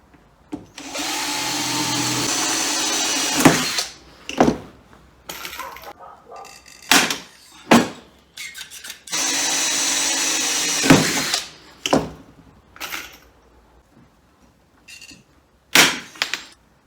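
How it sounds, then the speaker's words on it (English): A power drill whirs loudly in two long bursts, each followed by short clicks and knocks, with a brief drill spin near the end. "hold it in, and then you can drill a hole"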